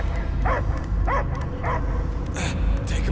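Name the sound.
dog barking in Guardians of the Galaxy video game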